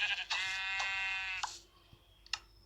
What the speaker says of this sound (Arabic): ها هو خروف آخر.